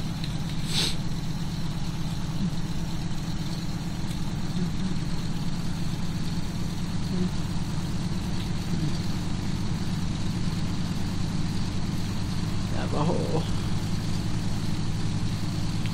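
A steady, droning engine hum from an L-10E aircraft taxiing in Microsoft Flight Simulator 2004, continuous and even throughout with a couple of brief faint clicks.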